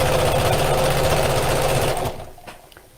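A sewing machine runs steadily, stitching all the way around the edge of a pocket in a dense, continuous mechanical whir that stops abruptly, leaving a few faint clicks and handling noises.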